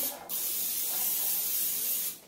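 A single long burst of aerosol cooking spray onto a baking pan hisses loudly and steadily for about two seconds, starting and stopping abruptly.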